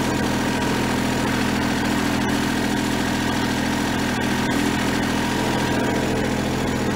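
A vehicle engine runs steadily while being driven, a constant low droning hum with a faint vibrating rattle, close and fairly loud, with no voices.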